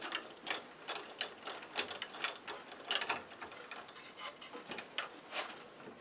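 Lathe chuck being tightened on a live edge walnut bowl blank, giving a close run of rapid ratcheting clicks in uneven bursts, fairly quiet, with no talk.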